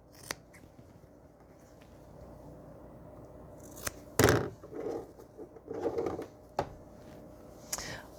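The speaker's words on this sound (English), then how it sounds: "And so we just cut away that fabric." Scissors snip through quilting fabric for a cat-themed quilt block, giving a few sharp crisp cuts scattered across a quiet room, with louder crunchy snips bunched near the end.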